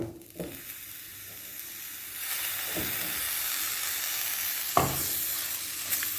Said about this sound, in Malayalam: അതിലേക്ക് നമ്മൾ എടുത്ത് വെച്ച വേപ്പില ഇട്ട് കൊടുക്കാം.